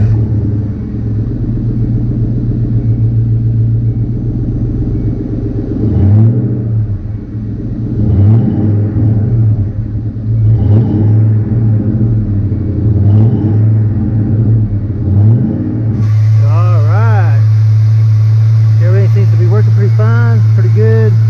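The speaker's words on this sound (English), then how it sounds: "But I'm gonna crank it up, guys, see how it sounds" A 1998 Ford Mustang GT V8 fitted with a JLT cold air intake idles with a steady low rumble, then is revved in several repeated blips before settling back to a high idle, with voices talking over parts of it.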